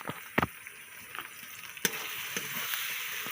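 Ginger and garlic paste with chopped onion and a little salt sizzles in a hot pan while being stirred, with a soft continuous fry and several sharp scrapes and knocks of the spoon.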